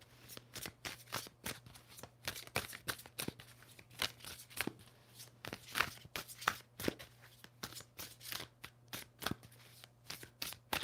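Close, crisp riffling of tarot cards being shuffled in repeated quick bursts, a rhythmic series of flutters and taps with no talking.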